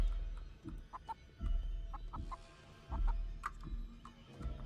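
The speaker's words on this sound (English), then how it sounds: "It's a very big chicken." Video game chicken clucking in a horror game, a series of soft low clucks and short muttering calls repeating at an uneven pace, faint and alone.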